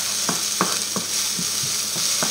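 Mussels cooking in olive oil in a pan, with no butter added, give a steady close sizzle and hiss, broken by a few soft stirring scrapes and clicks spaced through the short stretch.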